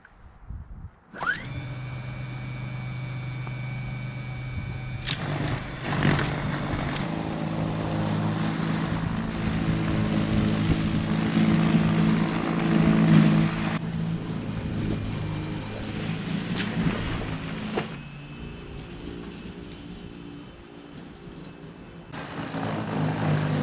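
A Toro 60-volt battery-powered snow blower clears snow. Its whirring motor and auger kick in after about a second and then run loud and close, with small surges and dips as it moves through the snow.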